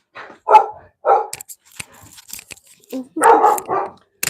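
Dogs bark loudly and close by in a home, sharp repeated barks in uneven bursts with clatter and movement between them, while a person talks over the commotion.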